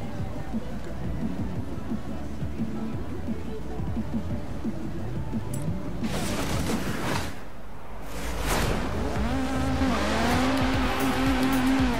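Bac Mono single-seater race car engine in Forza Horizon 3 during a night race, a steady droning hum that swells and revs higher in the second half, with a voice talking over it.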